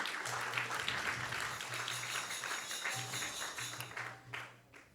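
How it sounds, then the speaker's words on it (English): Audience applause at a temple live-streamed gathering: steady, dense clapping from a crowd that holds for several seconds and then tapers off, fairly near. "Let's give them a round of applause."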